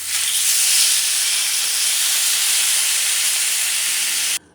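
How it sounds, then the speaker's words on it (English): Top round steak sears in a hot pan, giving a loud, steady hiss and sizzle that stays even throughout and cuts off abruptly at the end. "I added the steak and I'm going to let it cook for a couple minutes on each side."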